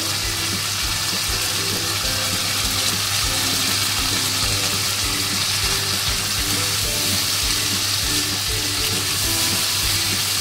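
Spice masala for dhokar dalna, with salt, turmeric and Kashmiri chilli powder, sizzles steadily in oil while a spoon stirs and scrapes it in repeated strokes, close and continuous with no talking.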